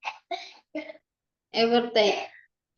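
A person gives a few short, dry coughs followed by two longer, harsher rasping coughs, close and loud against silence.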